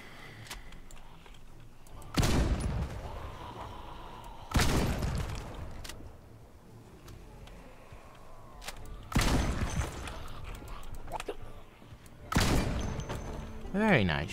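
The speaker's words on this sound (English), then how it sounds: "I'm honestly just gonna use the shotgun. I need to level up my shooting skill." Shotgun blasts in the zombie survival game Project Zomboid come as four heavy booming shots spaced a few seconds apart, each trailing off in a long decay over a low background hum, with no voice heard.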